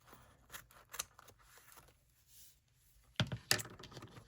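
Scissors trim paper for a woodland-creatures junk journal, with a couple of sharp, close snips near the end after quiet rustling and handling.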